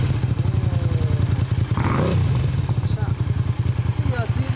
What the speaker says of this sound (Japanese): ブーツインマグナエンジン音聞かせて